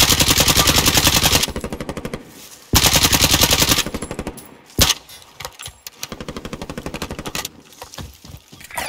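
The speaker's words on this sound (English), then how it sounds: "Yeah, I'm shooting at you." Automatic gunfire in a first-person shooter video game, with loud, rapid bursts of fire followed by shorter broken volleys and single cracks, close and dominant, with no talking.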